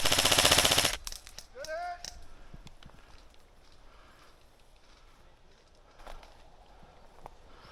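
Gunfire burst in a video game: a loud dense volley in the first second, then quieter scattered shots and game sounds with some faint voice underneath.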